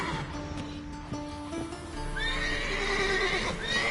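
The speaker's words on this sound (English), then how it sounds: "Gotta call off the horses before they wake the guards." Horses in The Witcher 3 video game neigh and whinny loudly, with rising whinny calls in the latter half over a steady game ambience and faint hoof clopping.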